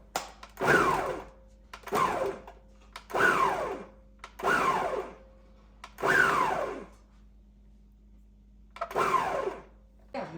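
A Ninja Foodi Power Blender on its chop setting gives six short pulsed bursts, each a whirring surge that winds up and cuts off, spaced about a second and a half apart with a low motor hum between.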